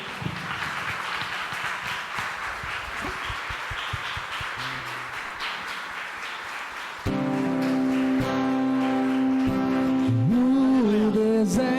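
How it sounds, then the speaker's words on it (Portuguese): A church congregation claps together for about seven seconds in a steady, dense roar of hands. Sustained music with a held tone then takes over. "Glória a Deus, aplauda o Senhor."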